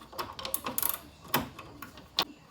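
A hand ratchet working a 10mm bolt loose from the cooling fan of a 1998 Honda CR-V, quick bursts of close rattling clicks with brief pauses between strokes.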